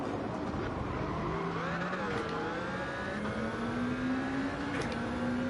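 Race car engine in Gran Turismo 7 heard from the cockpit, a steady droning whine that rises and shifts pitch through gear changes, continuous and moderately loud throughout.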